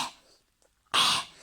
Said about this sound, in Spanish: El signo clínico en la traqueobronquitis infecciosa canina es una tos paroxística.